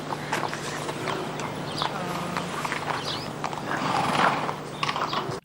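A horse in a film scene clip-clops with a steady clatter of hooves over continuous background noise, and a brief whinny rises partway through.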